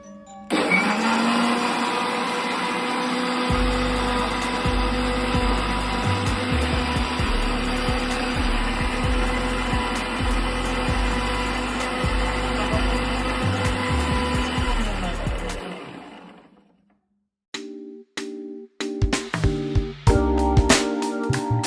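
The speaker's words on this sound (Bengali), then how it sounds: "তারপর ব্লেন্ডারের মুখ লাগিয়ে ভালো করে ব্লেন্ড করে নিতে হবে।" An electric blender whirs loudly and continuously for about sixteen seconds while blending dragon fruit juice with sugar, then stops abruptly, followed by a few clunks and short bursts.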